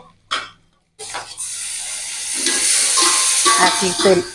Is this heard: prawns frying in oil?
yes